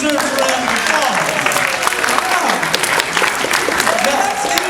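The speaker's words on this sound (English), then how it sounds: "That definitely deserves a round of applause." A crowd claps at a SeaWorld Orlando wildlife show while a voice carries on over the sound, the continuous dense patter staying even and fairly loud throughout.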